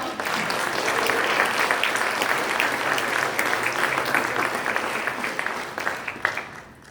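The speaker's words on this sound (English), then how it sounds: "Let's give our panelists a round of applause." An audience at a panel discussion claps for the panelists in a dense, steady round of applause lasting several seconds before it tapers off.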